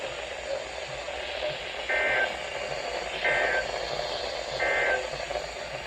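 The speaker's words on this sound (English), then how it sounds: "This is the test of the National Weather Service weather radio warning alarm." A steady tone repeats three times at even intervals, rising briefly over a broadcast voice and static-like hiss, moderately loud.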